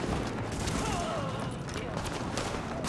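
Gunfire in The Division video game, a dense, continuous crackle of shots blended with game noise at moderate level, with a voice faintly present.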